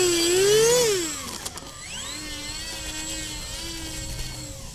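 An Avios Albatross HU-16 V2 radio-controlled seaplane taxis, its electric motors whining loudly as the throttle rises and then falls back to a steady hum, with pitch sweeping up and down as it moves along; no one speaks.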